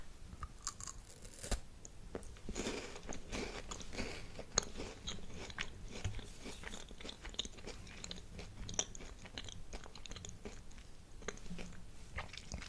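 Someone takes close, crisp bites of a piece of candy and chews it, with repeated crunches and soft mouth sounds in a quiet ASMR setting and no speech.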